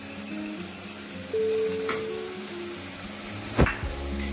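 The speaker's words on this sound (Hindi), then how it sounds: "करी पत्ता फ्राई हो रहा है" Curry leaves frying in a pan over a low flame for rasam, a quiet steady sizzle with a sustained tonal hum and one sharp clack of utensil near the end.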